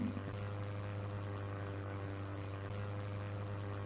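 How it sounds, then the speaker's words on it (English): Steady droning airplane sound effect, a low propeller-like hum with a constant pitch that holds throughout at a moderate, even level with no other sounds. "a longer plane sound effect?"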